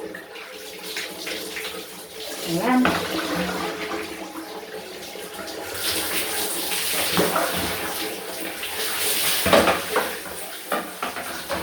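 A shower runs in a bathroom with half-tiled, painted walls, its water hissing loud and steady throughout with slight surges, and a voice briefly cuts in.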